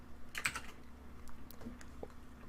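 Quiet, close typing on a computer keyboard: a short run of light, irregular key clicks over a faint background hum, with no voices.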